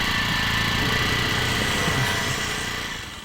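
A motorbike engine runs steadily at close range, a continuous rough idle-like drone with a faint high whine, easing slightly in loudness near the end.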